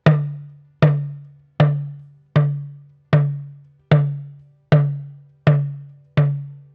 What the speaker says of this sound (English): the mi tone with a heavy compression on the chord.